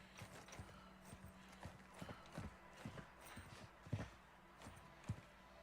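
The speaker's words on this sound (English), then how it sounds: "Unless my footsteps double clicked" Player footsteps in Warzone 2 come as a faint, steady run of soft thuds and scuffs, with a few heavier steps standing out against a quiet game background.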